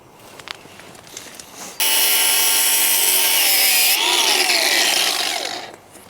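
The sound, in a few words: angle grinder cutting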